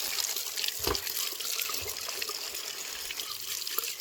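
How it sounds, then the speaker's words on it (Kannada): Spinach leaves rinsed under a running kitchen tap, a steady near splash of flowing water with soft trickling and a few louder spatters, no voices. "ಈಗ ತೊಳಿಲಿಕ್ತೀನಿ ರೀ ಇಲ್ಲಿ ನಾಳಕ್ಕೆ. ಇದಕ್ಕೆ ತೊಳೆದ್ಬಿಟ್ಟು ಕಟ್ ಮಾಡ್ತೀನಿ ರೀ."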